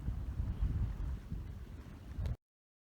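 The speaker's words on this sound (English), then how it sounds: "Particularly with this much wind going on." Strong wind gusting across Asta Golf Course in the Shetlands, a steady, loud rushing roar buffeting the microphone before cutting off abruptly.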